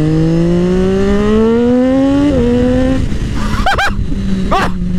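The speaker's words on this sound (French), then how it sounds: "ça reste un 3 cylindres, mais le bruit est totalement différent" A three-cylinder Triumph Daytona 675R sport motorcycle engine revs up hard and climbs in pitch, then shifts and drops as it pulls away loudly, with sharp whooshing passes near the end.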